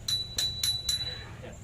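Four quick, bright rings of a bicycle bell in even succession, close to the mic, with a faint low rumble beneath and no talk.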